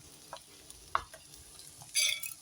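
Rolled egg omelette cooking in a pan with a soft sizzle, a few light utensil taps and scrapes, and a brighter burst of sizzling as more beaten egg goes into the hot pan near the end.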